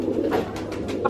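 Motiwale pigeons imported from Kuwait coo close by in soft, throaty, repeated calls. Light bird sounds overlap the cooing, and no voices are present.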